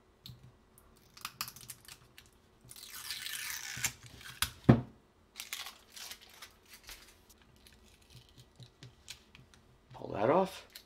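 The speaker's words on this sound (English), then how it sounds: "So we're going to pull off this Kapton tape." Kapton tape peeled off a eufyCam 3 S330 camera battery pack during a rebuild: a brief close rasping tear among small clicks and handling noises, with someone talking.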